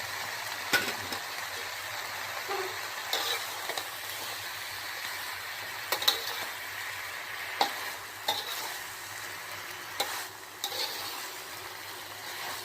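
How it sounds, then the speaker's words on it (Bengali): Fried fish heads tipped into cooking cabbage and stirred, a low simmering sizzle broken by sharp spoon clatters and scrapes against the pan at irregular intervals, close by and with no talk. "এর মধ্যে ভেজে রাখা মাছের মাথাগুলো ঢেলে নেব।"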